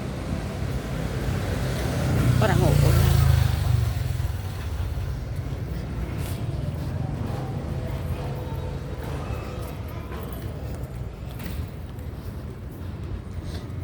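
A motorcycle passes on a road, its engine swelling to a close, loud drone for a couple of seconds before fading into a steady outdoor background hiss, with a brief remark spoken.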